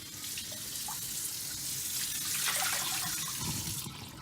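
A tap runs steadily into a wok in a sink to wet it for scrubbing, a continuous close splashing stream that cuts off near the end.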